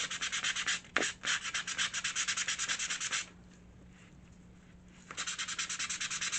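Fine sanding across the rough edge of a thin miniature furniture part, a steady run of quick rhythmic strokes that stops for a couple of seconds and then resumes, close and alone with no voices.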